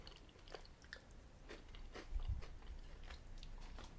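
Close, quiet crunching and chewing of a dark chocolate coated wafer dome, Godiva double chocolate, with repeated crisp bites and soft mastication in an irregular rhythm, no talking.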